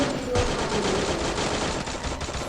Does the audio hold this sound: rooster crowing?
no